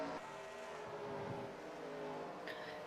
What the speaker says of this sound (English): right now, we're riding along with the 11 of Jamie Lee around this racetrack